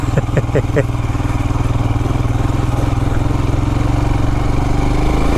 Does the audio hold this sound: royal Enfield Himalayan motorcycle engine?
yes